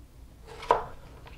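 Kitchen knife chopping the bottom callus off a vegetable during Cornish hen roasting prep, a single sharp cutting thunk on the board, close and clear against quiet room tone.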